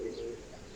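Pigeons in a pigeon loft give a short, soft, low coo, close by and heard on its own with no talk.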